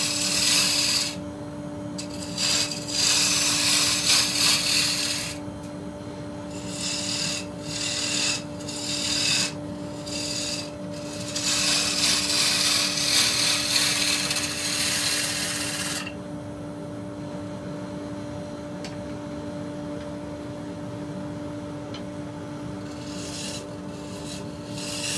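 Woodturning tool cutting a dusty, gnarly old piece of timber on a lathe, giving rough rasping scrapes in repeated bursts of varying length, close and fairly loud, then easing to a quieter steady hum.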